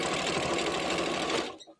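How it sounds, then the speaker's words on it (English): A sewing machine stitching a quilt runs in a fast, steady mechanical chatter close to the microphone, then stops abruptly near the end. "And now I'm just going to stitch."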